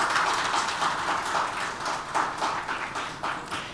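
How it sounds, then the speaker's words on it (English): A large audience at an India Today energy summit applauds steadily to welcome a minister as the inaugural speaker, with sustained dense clapping filling the hall and no talk. "please give a warm round of applause to him."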